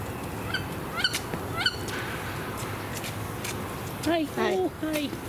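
A wood duck gives short, thin squeaks, a few spaced calls early on and then a louder cluster of squealing notes near the end, over steady outdoor background noise.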